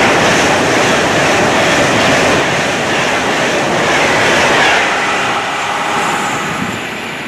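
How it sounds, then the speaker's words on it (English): A Pendolino train on the London Euston to Motherwell service in Lanarkshire rushes past close by with a loud, steady roar that holds for several seconds and then begins to ease as it moves away. "This is the London Euston to Motherwell I Street service."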